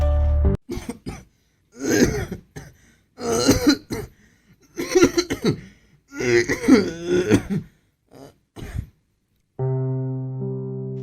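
A man coughs in repeated harsh fits, several loud close bursts with short gaps between, as a dramatised sound effect in a narrated story; a brief tonal musical sting follows at the end.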